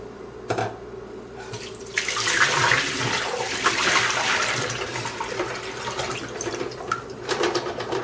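Water gushes and splashes out of a Hydrapak Big Sur bladder into a sink, a loud uneven pour that swells and surges in bursts, with no talking.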